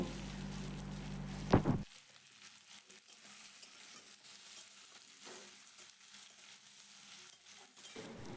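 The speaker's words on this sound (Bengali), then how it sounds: "এখন আবারও সব কিছু একটু হালকাভাবে তেলের সাথে ভেজে নেব" Chopped tomatoes and slit green chillies frying in oil for South Indian sambar, opening with a loud burst as they hit the pan, then settling into a softer, continuous sizzle with faint stirring.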